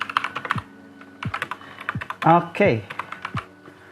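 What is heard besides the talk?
typing on Keychron K8 mechanical keyboard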